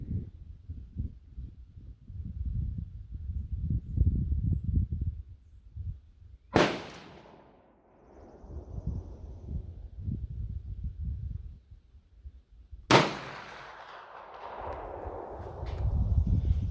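Two sharp, loud gunshots from a .454 Casull revolver ring out several seconds apart, each followed by a short echoing decay, over low rumbling background wind or handling noise.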